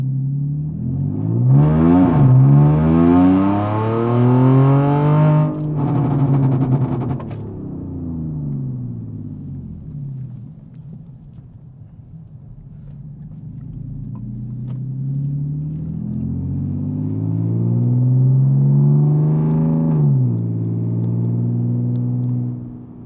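A supercharged Audi A5 Sportback with a loud straight-piped exhaust revs hard from inside the car, rising to a roaring pitch with whine, dropping back, then swelling again in a second long pull.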